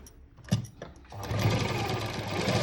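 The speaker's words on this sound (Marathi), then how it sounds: "आता इथं आपण आहे ना एक सरळ टीप मारून घेऊ" A sewing machine runs a straight line of stitching along a blouse patch, starting with a few separate clicks and then settling into a steady, fast mechanical whir, close and clear.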